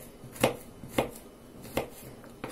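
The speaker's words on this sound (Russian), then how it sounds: "я нарежу чеснок и грибы" A knife chops garlic and mushrooms on a board, giving three distinct close thuds about half a second apart and then a faint fourth, in a quiet kitchen.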